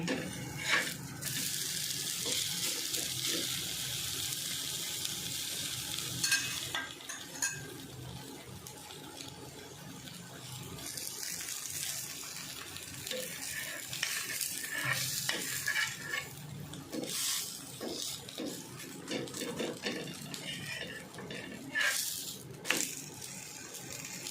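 A paneer paratha fries in oil on a griddle, a soft continuous sizzle broken by occasional louder hissing bursts and spatula scrapes, fairly quiet and steady with no talking.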